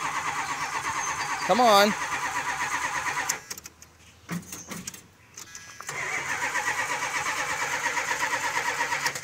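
A 1978 Chrysler Cordoba struggles to start: the engine cranks and roars unevenly, drops into a brief sputtering lull, then catches again in a rough, loud running note, with someone speaking briefly over it.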